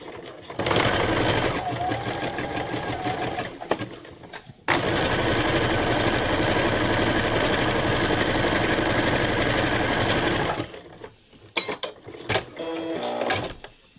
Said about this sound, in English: And now I will sew through with the stretchy zigzag.